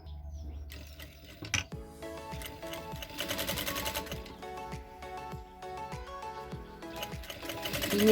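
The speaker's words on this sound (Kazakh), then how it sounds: "Енді мына бетін тігіп шығамыз." A sewing machine stitches fabric in steady, rapid mechanical bursts that grow busier and louder toward the end, with a few clunks of the mechanism close by.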